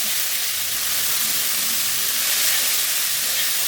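Kalai greens hitting hot oil already fried with a few cumin seeds and a little ginger, giving a steady, loud, continuous sizzle with broad hiss that holds evenly throughout, no voices.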